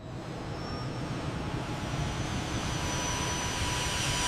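A fixed-wing airplane on landing approach into a valley, a steady, continuous engine drone that holds an even level throughout with no voices.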